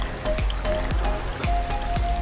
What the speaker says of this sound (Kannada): ಹಾಂ ಸೇಮ್ ನೀರು ಬೀಳ್ತಾ ಇರೋ ಥರನೇ ಇದೆ